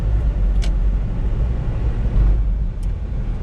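Steady low engine drone and road noise from inside a 1994 Ford Spectron diesel 4WD being driven, fairly loud and continuous with no talk.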